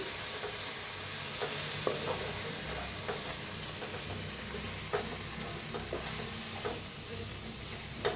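Methi leaves and besan (gram flour) are stirred in a hot pan, a steady soft sizzle under repeated scraping strokes of the spoon at an irregular rhythm, close and moderately quiet.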